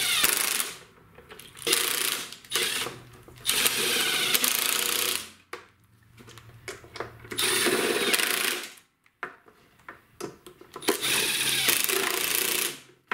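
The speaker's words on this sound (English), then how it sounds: "Now I will start them with my impact at the number one setting" An impact wrench on its lowest setting drives 8 mm valve cover bolts on a Kohler single-cylinder lawn tractor engine, in several rattling hammering bursts of one to two seconds each with short pauses between them.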